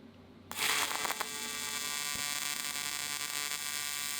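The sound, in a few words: high-frequency welding machine jumping an arc gap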